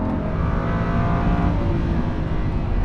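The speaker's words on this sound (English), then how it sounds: "Listen to that engine," A Lamborghini Huracan LP 580-2 engine roars loudly and continuously close by, a sustained rich howl under load with little variation, without any talk.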